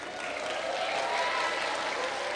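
An audience claps steadily throughout at an Islamic sermon, a dense continuous wash of applause from a large crowd filling the hall.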